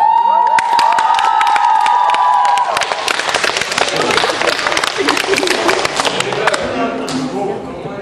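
An audience at a live song concert applauds and cheers, with dense, loud clapping and shouts throughout, over a sustained tone at the start.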